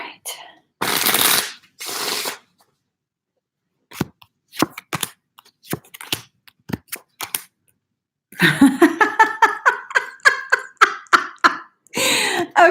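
Tarot cards being shuffled in quick bursts of riffling and snapping, with pauses between, close and loud; a voice is faintly present.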